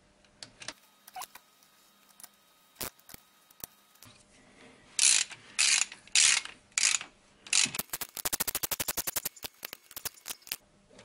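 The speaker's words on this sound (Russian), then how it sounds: "Заворачиваем болты на 20 ньютон." Ratchet wrench tightening cylinder head bolts on a Renault Logan to torque during a head repair, rapid clicking in bursts, sparse at first, then rhythmic pulls and a fast run of clicks near the end.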